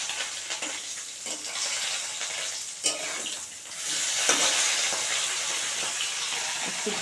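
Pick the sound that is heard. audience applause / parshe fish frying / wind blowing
parshe fish frying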